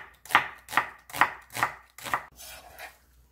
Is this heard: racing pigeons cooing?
no